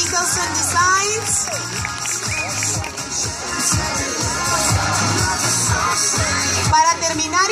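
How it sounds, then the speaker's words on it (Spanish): At a talent show fashion parade, the audience cheers and applauds, lively crowd noise with shouts and whoops mixed with music and voices over a PA throughout. "Un aplauso para ellos."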